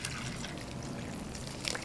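Beef bouillon liquid, about four cups, poured into a slow cooker over beef short ribs, a steady close trickle and splash running throughout with no talk.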